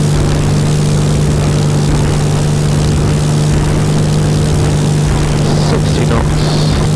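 A light propeller aircraft engine runs at full power on takeoff at 2200 RPM, a loud steady droning hum with a constant low tone, heard from the cockpit with voices talking over it.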